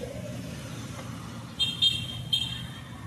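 Street traffic in Ozamiz City near City Hall, a steady low rumble of passing cars with a few short horn toots breaking through in the second half.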